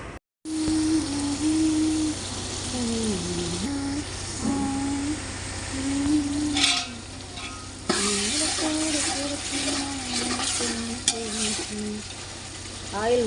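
Fenugreek, small shallots, garlic, tomato and curry leaves frying and being stirred in a pan for vatha kuzhambu, a steady sizzle running throughout with occasional scraping stirs, while someone talks over it.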